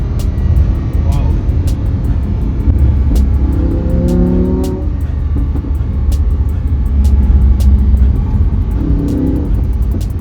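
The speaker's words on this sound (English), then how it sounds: "This is Lamborghini." A Lamborghini Aventador sports car engine runs as a loud, steady low rumble throughout, with people talking over it at moments.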